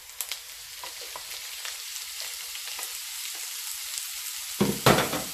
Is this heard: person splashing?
no